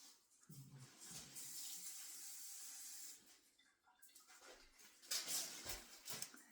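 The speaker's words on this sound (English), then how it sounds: "get some water in this one" Water runs from a tap in a steady hissing stream, stops briefly, then splashes again more sharply, quiet and close.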